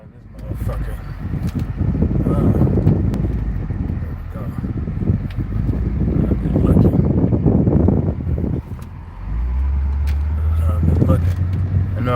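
A car driving through a neighborhood, a steady engine rumble with road and wind noise heard from inside the vehicle, while someone talks over it.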